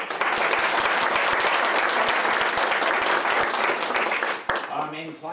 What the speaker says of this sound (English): One more round of applause for them for doing this.